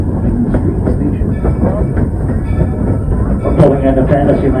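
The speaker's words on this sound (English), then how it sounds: "We're pulling into Fantsyland Station," A Walt Disney World Railroad train pulls into a station, loud and close, with rumbling wheels, rhythmic clickety-clack over the rail joints and a few clanks and squeals, with faint voices underneath.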